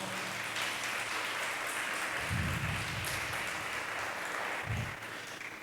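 A church congregation applauds during a worship celebration service, with steady, moderately loud clapping throughout and a couple of low thumps underneath.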